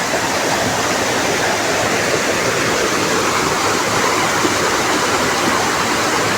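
River water rushes steadily in a dense, loud, continuous roar with no pauses, alone without voices.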